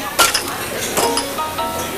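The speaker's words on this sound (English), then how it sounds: "An old-fashioned glass, fill it with ice cubes." Ice cubes clinking and rattling into an old-fashioned glass, a few sharp chinks in quick succession at close range with faint room noise.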